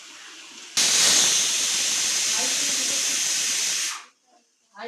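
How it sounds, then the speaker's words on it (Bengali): A pressure cooker cooking mutton curry vents its whistle in a loud, sustained rush of hissing steam lasting about three seconds, then cuts off abruptly into near silence, with faint kitchen noise before and after. "এই যে তরকারিটা প্রেসারে সিটি মেরে নিয়েছি"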